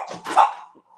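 A dog gives a short, close bark with a yelping edge, a single brief outburst during an indoor podcast recording, with no talk over it.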